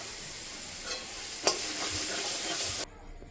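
Spices with kasuri methi sizzle and crackle in hot oil while being stirred for kabuli chana ghugni, a loud close frying hiss with a few sharp spatula scrapes, cutting off abruptly near the end.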